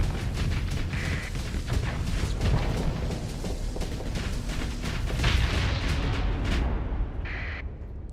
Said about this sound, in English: Oh, the explosion was so close, it just took out the other ship.